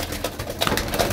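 Desi pigeons in a courtyard loft in Faisalabad coo in short, soft, low rounded calls that repeat and overlap over a steady background hum.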